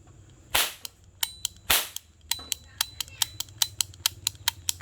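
A steel toy cap gun fires sharply: two loud cracks, then a rapid run of about a dozen crisp snaps in a steady rhythm, close by.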